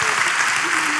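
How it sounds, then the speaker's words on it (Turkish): Studio audience applause, a dense, continuous burst of clapping heard briefly with a voice faintly underneath. "Koca alkış diyeceğim güzel kardeşime."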